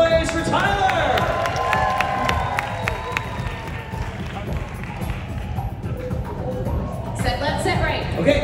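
A stadium audience at a live Fear Factor stunt show at Universal Studios Orlando cheers, whoops and claps loudly and continuously, the crowd noise filling the space while an announcer's voice carries over it.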